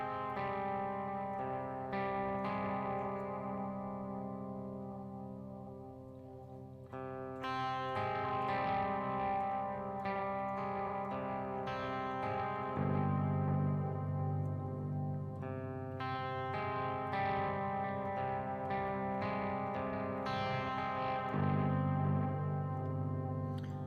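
Electric guitar played through new effects pedals with distortion, chorus and a delay whose mix and repeats are turned way down, ringing chords and riffs with light echo, loud and continuous with no talking.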